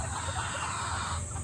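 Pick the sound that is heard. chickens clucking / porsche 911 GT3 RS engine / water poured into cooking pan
chickens clucking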